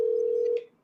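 Steady telephone dial tone, one short continuous hum heard clearly on its own before it cuts off.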